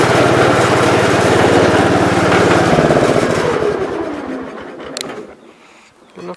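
A parked lawn tractor's small engine runs steadily at a low, buzzing idle, then its tone drops and fades out as it shuts down, leaving faint clicks near the end.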